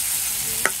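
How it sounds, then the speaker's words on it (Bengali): Vegetables sautéing in oil in a pan make a steady close hiss, broken near the end by one quick scrape of a spatula. "সবজিটা একটু তেল দিয়ে ভেজে নিলাম।"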